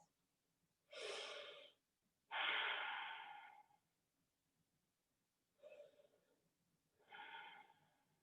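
Slow, deliberate breaths during a pregnancy yoga exercise, four separate inhales and exhales with pauses of quiet between them, close and fairly soft, with no talking.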